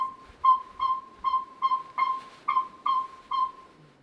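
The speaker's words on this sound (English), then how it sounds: "Larger owls can also hear this hooting from the loudspeakers" Northern saw-whet owl hooting from loudspeakers: a steady run of about eight clear, evenly spaced, mid-pitched toots, fairly near and prominent against quiet background.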